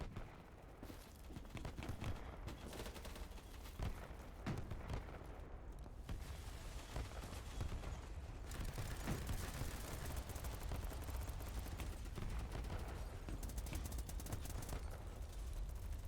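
SG-550 rifle fire in BattleBit crackles in repeated bursts amid a chaotic, large-scale battle, with distant explosions and gunfire layered throughout and no talking.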